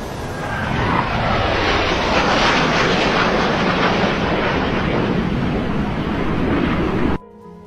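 A pair of F-16 fighter jets pass overhead, a loud, sustained broadband jet roar that holds steady for about seven seconds before cutting off abruptly, heard alone without speech.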